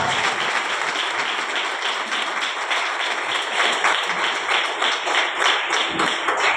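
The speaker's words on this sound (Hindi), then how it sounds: "सिंधे सर और जोर से ताली बजाएंगे" A church congregation applauds loudly and continuously for several seconds, dense clapping close and sustained with a faint voice underneath.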